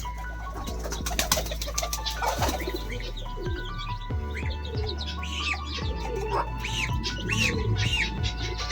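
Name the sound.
pigeons and chickens feeding and flapping in a loft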